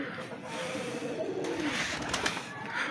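Pet pigeons, including a teddy pigeon, coo low and steadily nearby in a home coop, a soft continuous burbling with faint rustling and no talk over it.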